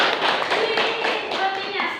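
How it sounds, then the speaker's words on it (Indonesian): Hands clapping in an Indonesian classroom during a micro-teaching practice lesson, a short burst of scattered applause with voices mixed in. "Oke, tepuk tangan Bu."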